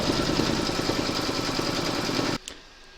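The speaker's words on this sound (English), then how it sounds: "Pop your hoop into your machine and stitch round number 11 to secure it" An embroidery machine stitches fabric in the hoop with a fast, even mechanical whirr and rapid needle chatter, running loud and close for a couple of seconds before cutting off abruptly into quiet.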